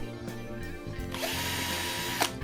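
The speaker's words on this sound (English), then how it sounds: "go ahead and drill their mounting holes down through the body" A power drill whirs up and runs steadily, drilling mounting holes through a jazz bass guitar body, preceded by a few clicks and handling noises, close and fairly loud.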